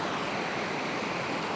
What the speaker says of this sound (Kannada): ಅಷ್ಟು ಸ್ಪೀಡ್ ಇದೆ ನೀರು